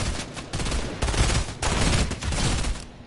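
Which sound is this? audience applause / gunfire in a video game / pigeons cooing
gunfire in a video game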